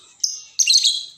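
An oriental magpie-robin, a rare songbird kept by a hobbyist with eggs in its cage, gives two bright chirping bursts close by, the second longer and busier, with no talk over it.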